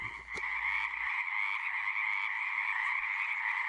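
A frog far out in the wild gives a steady, sustained croaking call, close and unbroken, with a brief low thump near the start.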